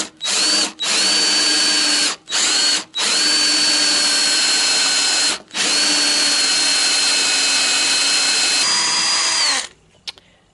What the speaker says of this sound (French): je vais essayer de percer